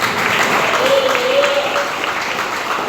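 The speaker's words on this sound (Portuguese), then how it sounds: "Bate palmas agora." A church congregation claps in sustained, dense applause during a service, with a voice faintly heard underneath.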